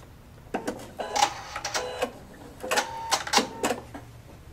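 Viking Sapphire 960Q sewing machine running a basting stitch as fabric is moved through by hand, with bursts of mechanical clatter and whirring that start and stop irregularly, close by.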